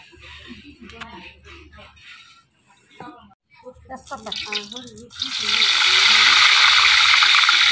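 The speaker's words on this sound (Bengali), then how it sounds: "কড়াই গরম হয়ে গেছে, তেল দিয়ে দিলাম।" Talk and kitchen clatter give way to a sudden, loud, steady sizzle of oil hitting a hot karahi, for duck curry, that continues to the end.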